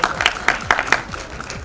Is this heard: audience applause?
yes